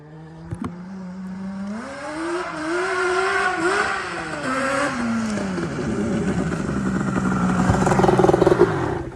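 A Yamaha Banshee ATV engine revs up loud and close, its two-stroke pitch climbing and dropping through gear shifts and then building to a raspy high-rev wail.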